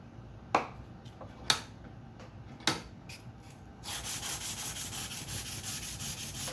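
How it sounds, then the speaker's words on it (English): Sandpaper clamped in a bench vise rubs against a small homemade engine intake: three sharp knocks, then steady, close, rhythmic abrasive scraping that continues alone. "Use a bench vise to hold the sandpaper."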